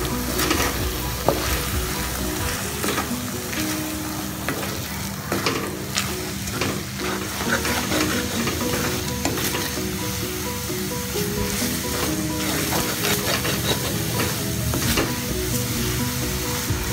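Beaten eggs poured into a pan with drumstick leaves fry with a loud, steady sizzle, stirred now and then, close to the microphone with no talk over it.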